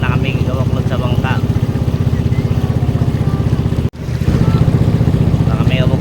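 A wooden bangka motorboat chugs toward Kabuklod with a loud, steady, droning engine that briefly cuts out partway through before resuming, and faint voices are present under the engine.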